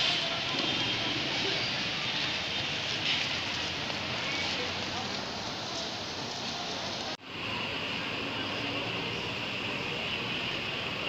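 Steady rain pours outdoors around Quiapo Church in Manila, a dense, even hiss that holds for the whole stretch with one brief dip in the middle, and no other sounds stand out.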